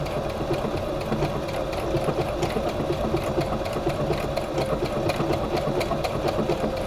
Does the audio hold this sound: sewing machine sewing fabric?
yes